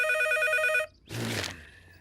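Cartoon telephone bell rings loudly in a steady trilling burst, then stops, followed by a brief rustling clatter like a receiver being picked up.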